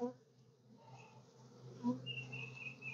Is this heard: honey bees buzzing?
yes